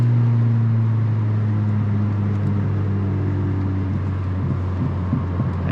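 Volkswagen Golf 2 GTI engine pulling hard from inside the car, a loud steady low drone with a strong humming tone that holds and slowly eases, with faint road noise and no talking.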